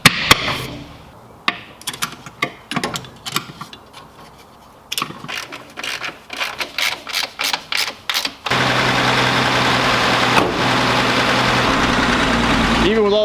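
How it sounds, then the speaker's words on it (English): An old car engine, freshly tuned with gapped spark plugs and readjusted valves and running Seafoam, gives a series of loud sputtering, stuttering bursts before catching into a steady, rough, loud idle. "I'm ready to put this back together and fire it up."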